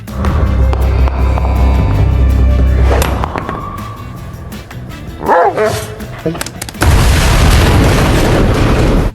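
A grenade thrown by a villain in an action film goes off as a sudden loud, broad blast partway through, with the roar lingering to the end, preceded by a busy mix of voices and other sounds.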